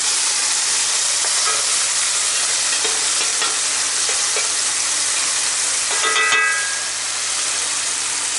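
Lean steak burgers searing in a Blacklock cast iron skillet, a loud close hissing sizzle that holds steady, with a brief scrape of a utensil partway through.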